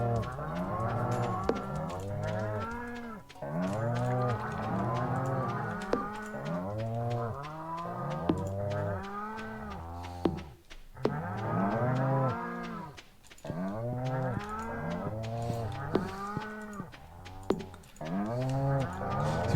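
Cows in the farming video game Stardew Valley moo repeatedly, with overlapping low calls in steady bursts throughout, loud and close with no talk over them.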